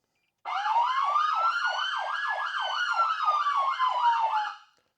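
A loud electronic ambulance dual-tone siren rapidly alternating in a fast yelping warble for about four seconds, close and alone, then cutting off.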